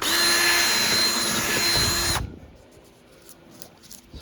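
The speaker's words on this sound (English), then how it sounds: "So I'm gonna drill this hole out until I feel like we got good metal again." A power drill whines loudly and steadily as it bores a hole through the metal body of a Porsche 914, then cuts off abruptly, leaving a quiet workshop with faint clicks.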